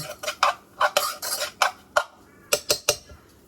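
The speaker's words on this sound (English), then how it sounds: "Now we're going to mix it all together." A utensil mixes seasoned salmon and broccoli in a pan, with close, loud scraping and clattering strokes in an uneven rhythm.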